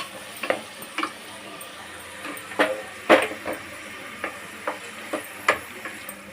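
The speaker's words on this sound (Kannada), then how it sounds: "ಈರುಳ್ಳಿನ ಸ್ಲೈಸ್ ಮಾಡಿಕೊಂಡು ಸಣ್ಣದಾಗಿ ಹಚ್ಕೊಂಡಿದ್ದೀವಿ. ಅದನ್ನು ಆ್ಯಡ್ ಮಾಡಿ ಚೆನ್ನಾಗಿ ಫ್ರೈ ಮಾಡ್ಕೋಬೇಕು." Sliced onions and curry leaves frying in oil for chicken sambar, with a steady soft sizzle broken by a series of sharp clicks and scrapes as a spoon stirs the pan, no voices.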